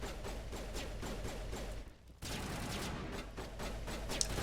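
Sustained gunfire from squad members shooting at enemies in the sci-fi game Mass Effect, a dense, continuous rattle of rapid shots that breaks off briefly and then resumes at the same level.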